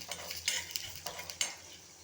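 A second batch of bhaji made with colocasia leaves fries in hot oil, with a soft sizzle broken by several sharp clinks and scrapes of a utensil stirring in the pan.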